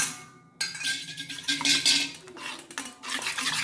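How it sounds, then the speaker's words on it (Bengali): Salt and turmeric are mixed into mustard oil in a bowl, with a spoon scraping and clinking against the dish in quick, uneven strokes. "ভালো করে এইভাবে মিশিয়ে নেব।"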